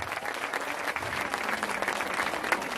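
Audience applause at a village Home Minister game show event, dense and sustained clapping from a crowd close by and at an even level.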